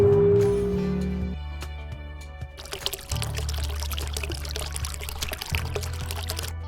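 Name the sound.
vinegar being poured into a bottle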